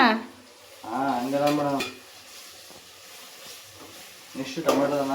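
Onions frying in a pan while being stirred, a soft steady sizzle with scraping strokes running under intermittent speech in a home kitchen.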